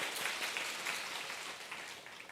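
Sustained applause from a church congregation welcoming a new member who recently opened a Vietnamese restaurant, steady and full throughout before easing off slightly near the end.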